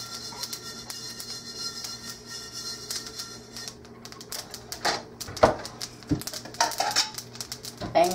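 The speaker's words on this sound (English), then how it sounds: "I am going to transfer this sesame seeds to this plate, and cool it thoroughly" Roasted sesame seeds pouring and scraping from a hot pan onto a plate in a home kitchen, giving a light patter with scattered clicks and taps, soft at first and then louder and busier.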